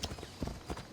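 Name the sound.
horse hooves while riding, from video game Assassin's Creed Odyssey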